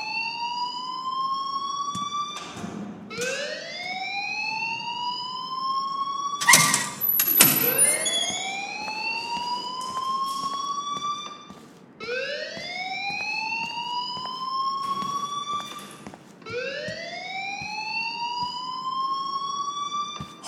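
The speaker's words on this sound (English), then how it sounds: "please turn off that alarm since that's your job" Fire alarm in the video game Life is Strange, a loud electronic siren that sweeps upward in repeated rising wails, each pulse separated by brief gaps, with a few sharp clattering hits partway through.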